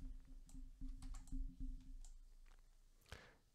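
Close, quiet typing on a computer keyboard, with irregular bursts of crisp key clicks and short pauses between them, and no voice.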